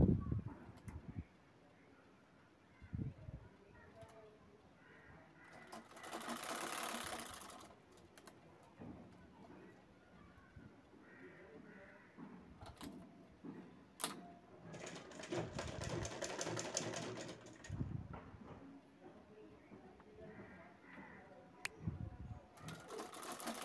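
A sewing machine stitches a cloth bag in short bursts of rapid mechanical whirring between quieter pauses of handling and clicks, recorded close at low level indoors.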